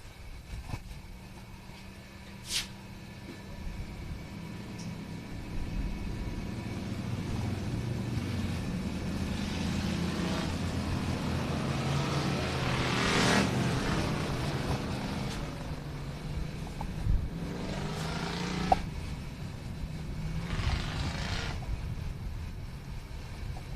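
Pure stock race cars rolling off for a heat race at a dirt track, several engines droning and swelling as they pass, with rising and fading roars over a low rumble.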